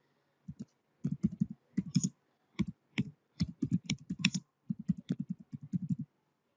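Keystrokes on a computer keyboard as a company name is entered into an online incorporation form, coming in quick bursts of close, crisp clicks with short pauses between words.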